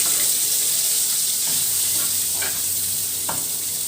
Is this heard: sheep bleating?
no